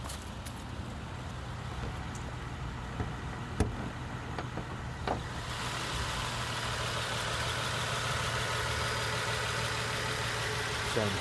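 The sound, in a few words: 2009 Nissan 370Z V6 engine idling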